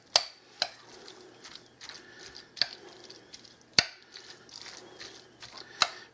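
Chicken salad with onions and celery being stirred in a bowl: a handful of sharp, clinking knocks of the utensil against the bowl, spaced irregularly over soft, wet mixing scrapes, close up and with no voices.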